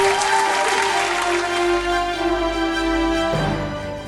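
Applause from a studio audience on a gospel singing TV competition after a contestant's performance, with clapping under steady musical tones that shift near the end.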